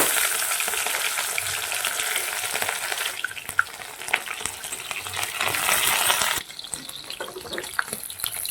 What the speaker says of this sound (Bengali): সেজন্য আমি একটা করেই ভাজব